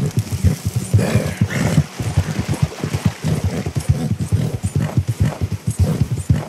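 Horse hooves clip-clop in Red Dead Redemption 2, a steady rhythmic trot of many close, evenly spaced hoof strikes running throughout.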